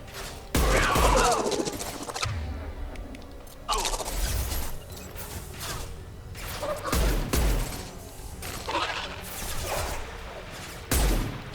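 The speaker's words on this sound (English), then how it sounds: "Firing a high-impact shot!" Sharp, spaced gunshots with crashing impacts in the video game Mass Effect 2, several loud bursts separated by quieter gaps, with faint voices in the background.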